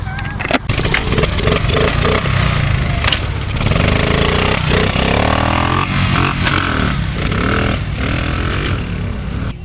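A Honda engine runs loud and close, a rough, continuous mechanical roar with uneven throbbing and shifts in speed across the whole stretch.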